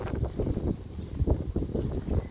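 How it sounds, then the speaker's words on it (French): Strong wind during an approaching thunderstorm roars and buffets the microphone in a steady, low rumbling rush with rising and falling gusts. "par contre ça là, waouh, le vent"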